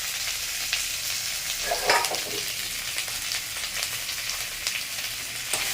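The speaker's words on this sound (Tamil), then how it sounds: "அதெல்லாம் போட்டு வதக்க போகிறேன் இப்போ" Curry leaves and drumstick leaves sauté in a hot pan for a tapioca adai dosa, giving a steady crackling sizzle with a brief louder burst of spitting near the middle and no talk.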